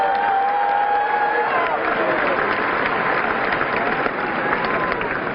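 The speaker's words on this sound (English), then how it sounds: "Let's give him another round of applause." Large crowd applauding and cheering at the Clemson national championship parade, a broad, continuous wash of clapping with whistles and shouts carrying through an outdoor stadium setting.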